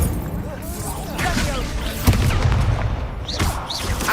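Incendio fire spell cast in Hogwarts Legacy, a short fiery whoosh and burst amid other game combat effects, with a voice speaking over it.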